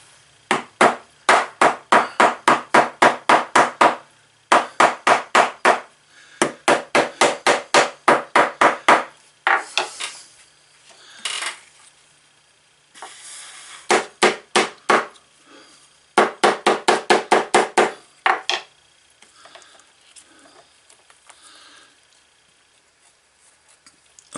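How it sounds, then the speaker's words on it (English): A plastic tent stake hammer strikes a die cutter through leather in rapid bursts of sharp, close blows, each run of roughly eight to twelve hits separated by short pauses, ending with a few scattered taps and quiet. "it's just a plastic tent stake hammer"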